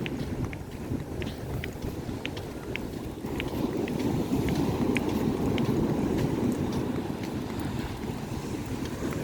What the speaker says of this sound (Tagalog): Talagang malakas ang alon dito.